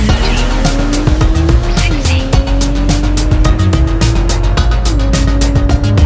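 A tuned Porsche 911 Turbo S with PDK gearbox, exhaust, headers, downpipes and Cobb stage 1 tune accelerates hard on a quarter-mile run, engine loud and continuous with rising pitch broken by quick gear shifts.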